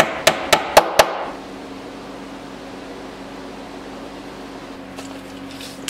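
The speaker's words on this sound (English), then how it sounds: "you'd be surprised how many times you just want a little hammer instead of a 20 ounce Franklin hammer" A small kid's hammer strikes four quick, evenly spaced metallic taps at close range, followed by a steady hum of background fan or machinery noise.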